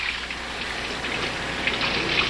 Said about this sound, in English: grab a rag, turn the water on for a minute